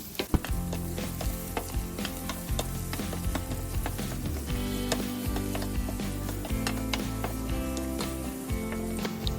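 Onion, ginger, garlic and green chilies sauté in a pan for paneer butter masala, with a steady sizzle and frequent sharp clicks and scrapes from a utensil. A low hum runs underneath, and no one talks.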